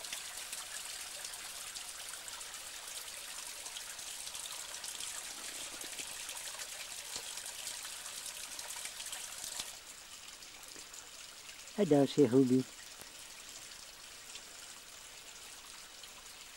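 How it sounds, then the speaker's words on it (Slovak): Water trickles steadily down the side of a rock beside a small waterfall in wild forested mountains, a continuous soft splashing wash that runs throughout, with a brief voice breaking in near the end. "Po tej skále nám pekne steká vodička z boku."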